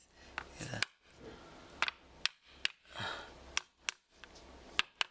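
An oil seal for the rear bearing of a pre-war Riley Kestrel 12/4 is driven home with an old socket, giving about ten sharp, close metallic taps in uneven clusters with brief pauses between them, and no talking.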